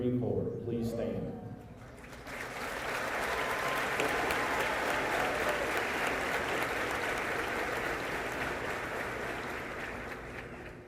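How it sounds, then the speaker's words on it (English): Sustained applause from a crowd filling a high school gymnasium at a graduation ceremony, rising after a brief spoken announcement and holding steady and dense for about nine seconds before easing slightly. "Let us all give this young man a round of applause one more time for forthcoming service to our nation."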